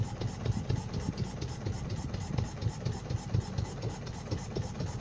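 A motorboat engine runs steadily while the boat cruises the lagoon at Langøykilen near Kragerø: a continuous, loud, low rumbling throb with no talking.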